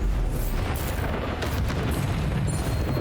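A Bombarda blasting spell goes off in Hogwarts Legacy, a loud rumbling explosion with sustained low roar and debris crackle filling the whole moment.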